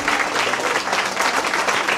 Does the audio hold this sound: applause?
yes